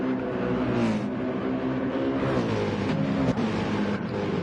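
Race cars roar through a tunnel toward a chicane in a sim-racing league race, a steady loud engine drone with shifting pitch and echoing whir, continuous throughout with no talk.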